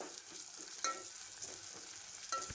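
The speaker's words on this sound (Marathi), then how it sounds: "आणि या सर्वांचं मिश्रण पुन्हा एकदा आपण परतून घेऊया" Ginger-garlic paste is sautéed with fenugreek leaves and moong in a pan, giving a steady sizzle broken by two scraping strokes of the spatula.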